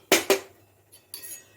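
A metal spoon clinks twice against the inside of a vessel while mixing gram flour batter with water in a home kitchen, then scrapes lightly a couple more times; crisp, close and unaccompanied.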